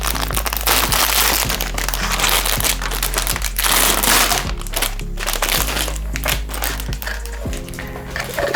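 A plastic bag holding Zvezda Ural truck model kit parts crinkles and crackles continuously up close, loud and busy throughout with occasional thunks.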